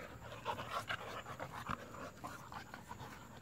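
An Airedale terrier puppy pants in quick, rapid breaths, close and fairly soft, with faint shuffling around it.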